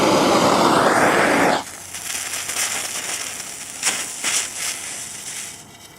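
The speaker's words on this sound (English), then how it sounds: "light the torch, light the fuse" Torch roaring loudly as it is lit for a detonation demo, a broad hiss that cuts off abruptly, followed by the quieter sputtering crackle of a burning fuse.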